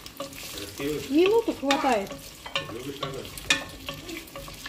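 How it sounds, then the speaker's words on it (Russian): Onion, potato and carrot sizzle in oil in a frying pan while being stirred with scraping, clattering strokes; a person speaks briefly over the steady frying. "Лук. Картошка, морковка. Все, так жарить."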